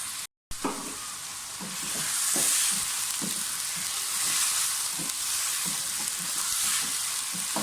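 Chicken pieces frying in a pan for aloo chicken shorba give a steady, bright sizzle, with soft, regular stirring scrapes beneath it. Close and even throughout, apart from a brief dropout near the start.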